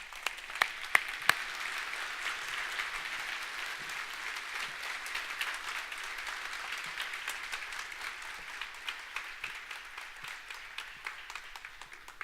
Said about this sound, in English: let's give Hilary the biggest round of applause ever